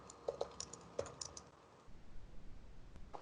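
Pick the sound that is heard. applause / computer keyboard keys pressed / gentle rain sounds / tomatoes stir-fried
computer keyboard keys pressed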